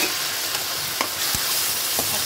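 Tomato pieces frying in a hot pan, a steady sizzle with a few sharp stirring scrapes, close and fairly loud with no talk.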